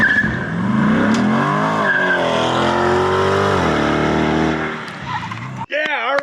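A Corvette C8 launches under launch control with a loud engine roar rising through the revs and tire squeal, close from inside the car with excited voices, ending in a sharp shift or cut.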